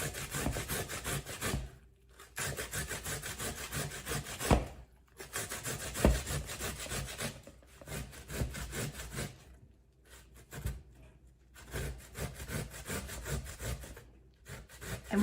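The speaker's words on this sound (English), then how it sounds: "It doesn't take long to grate this entire cucumber." A whole cucumber rubbed quickly up and down a hand grater, a steady run of close scraping strokes broken by a few short pauses.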